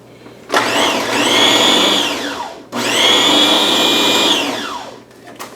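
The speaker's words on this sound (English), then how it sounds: "I'm going to chop this up a little bit before I add the dressing" Ham and hard-boiled egg are chopped for ham salad by a loud, close motor that whirs in two long pulses, spinning up and winding down each time, with no talking.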